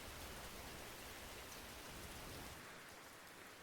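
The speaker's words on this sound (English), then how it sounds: "This is smooth rain." Smooth rain ambience plays as a dense, even hiss of falling rain, steady and soft throughout with the low rumble thinning near the end.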